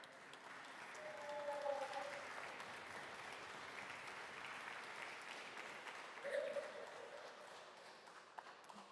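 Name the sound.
audience applause at Co-op Congress supper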